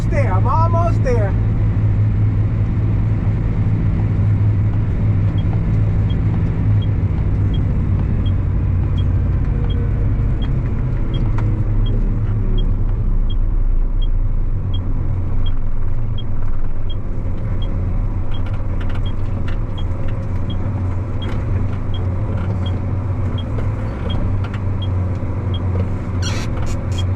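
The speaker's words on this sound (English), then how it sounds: "I know, log truck, hold on" A log truck rolls by on a rural road near farm fields, a loud, heavy rumble that holds close and steady throughout, with a person talking over it.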